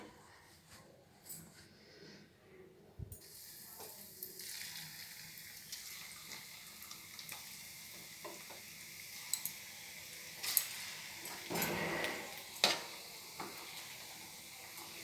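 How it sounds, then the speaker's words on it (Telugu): Potato balls coated in bread powder sizzle as they drop one by one into hot oil, giving a steady crackling fry with light stirring clicks and a few louder splashes and clatters. "ఈలోపు మనకి ఆయిల్ హీట్ ఎక్కింది కదా, వేసేసుకోండి ఒక్కొక్కటి."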